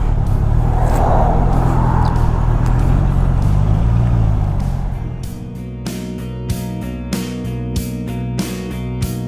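Road traffic heading out toward Batangas, a broad roar of passing vehicles and engines that fades after a few seconds into a steadier idling hum with sharp intermittent ticks.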